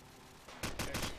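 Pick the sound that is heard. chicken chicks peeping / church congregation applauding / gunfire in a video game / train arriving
gunfire in a video game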